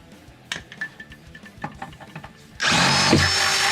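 Before a loud power drill kicks in, a Harbor Freight rivet nut tool rattles with small clicks and handling knocks. The drill then runs steadily and close for the last second or so while the rivet nut is set.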